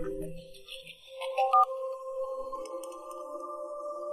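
A mobile phone rings in an indoor setting, its melodic tone entering about a second in and continuing steadily, moderately loud, after a brief low murmur at the start.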